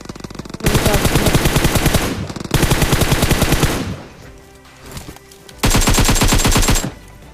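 Sustained bursts of automatic gunfire from an enemy team in a shooting video game, three long rapid volleys, loud and close, with a brief quieter gap between them.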